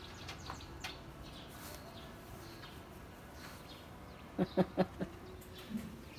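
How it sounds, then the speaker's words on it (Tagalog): Birds perched on a rooftop give a quick cluster of four or five short chirps near the end, fairly clear above a faint background hum, followed by one softer call. "Yan, ang ibon. Ang dami."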